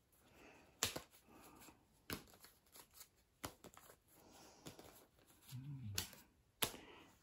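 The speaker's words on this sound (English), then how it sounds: "You're going to deal out all the cards." Playing cards for the St Patrick board game dealt onto a table, a series of distinct sharp snaps and flicks spaced roughly a second apart, close and fairly quiet, with no talking.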